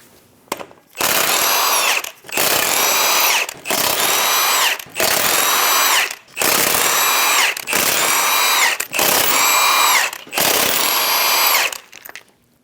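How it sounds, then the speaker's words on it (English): A power tool with a 22mm socket spins lug nuts off a Chevrolet Express front wheel, seven loud close whirring bursts of about a second each, separated by short pauses, with no talking. "remove the 8 lug nuts."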